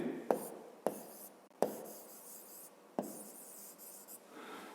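A pen scratches across notebook paper in short, separate strokes with brief pauses between them, close and quiet, while answers are written out for a seventh-grade physics exercise.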